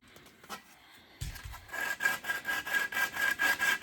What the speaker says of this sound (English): I'm going to stick with my sanding block and see if I can get the job done with that